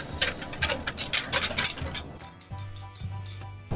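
Rapid rhythmic clinking and scraping of a whisk against a bowl, vigorously mixing eggs with hot milk for custard close by, followed by a low mechanical hum.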